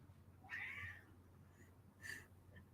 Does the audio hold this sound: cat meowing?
yes